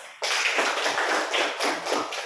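A classroom of students breaks into applause, a dense burst of clapping that swells and fades in rough waves for about two seconds, fairly close with no talk.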